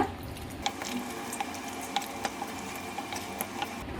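A spoon stirring fried brinjal into a thick gravy in a pan, soft scraping and wet squelching with sharp clicks against the pan at irregular intervals, over a low steady simmer.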